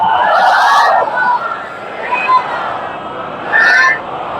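Congregation at an imam bargah majlis calling out salawat aloud in unison, a loud collective chant in several surging bursts with crowd murmur between them.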